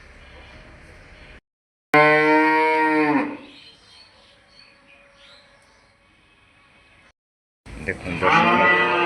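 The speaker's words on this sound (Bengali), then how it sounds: "ঈদের জন্য মোটা তাজাকরণ গরু সকালবেলা খাবারের জন্য অপেক্ষা করছে।" Fattened cattle on a Savar farm, raised for Eid, moo loudly while waiting for their morning feed: one long, strong, harmonic moo near the mic, a quieter stretch of barn noise, then another loud moo begins at the end.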